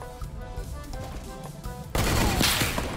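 Gunfire in the Fortnite video game, a burst of loud, dense shots that starts abruptly after a stretch of softer in-game ambience with faint ticking tones.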